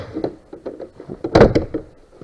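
A wooden pioneer cabin door in the woods, fitted with a pig-barn style latch, is shut: light knocks and rattles, then a solid close thunk, with a few softer taps after.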